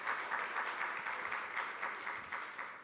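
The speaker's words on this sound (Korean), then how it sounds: "우리 다시 한번 이 박수로 한번 격려 한번 할까요?" A church congregation at an afternoon worship service claps in encouragement, a steady broadband patter of many hands that stays fairly even for the whole stretch with no talk over it.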